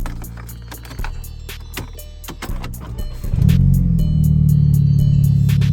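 A car engine cranks and starts, then settles into a steady, loud idle after several seconds of handling and clicking noises close by.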